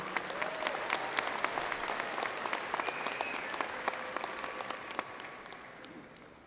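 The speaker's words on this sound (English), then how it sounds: "Let's have a round of applause for both Mario and Adrian." A large audience at a university fall commencement ceremony applauds in a dense, sustained wash of clapping with scattered louder claps near the front, then thins and fades out over the final second.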